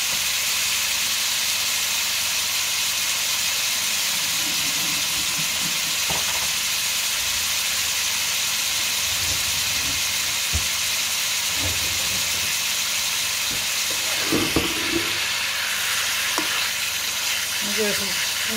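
Beef tips searing in a skillet give off a steady, close sizzle and hiss for most of the stretch, with a few brief clatters and stirring noises near the end and no one speaking.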